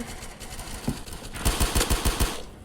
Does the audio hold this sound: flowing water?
no